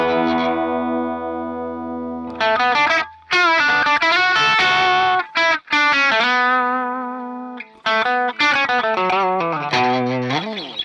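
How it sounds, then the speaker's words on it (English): Marshall SV20H guitar amp on its high treble channel with the volume low, giving a clean-to-slightly-gritty electric guitar with sustained chords and melodic runs, loud and close, broken by a few brief pauses. "So I'll now switch my cable over to input 1, which is the high treble channel."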